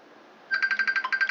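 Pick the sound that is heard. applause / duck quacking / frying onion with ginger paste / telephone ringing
telephone ringing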